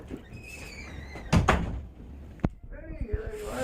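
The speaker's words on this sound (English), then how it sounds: "Close the door behind you." An indoor door swings and shuts with a couple of soft thuds while people talk nearby.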